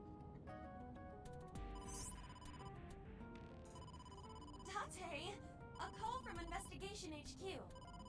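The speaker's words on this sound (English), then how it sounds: "A call came in soon after." A phone call rings in the game AI: The Somnium Files, an electronic ringtone sounding over background music and game sound effects, with no talk.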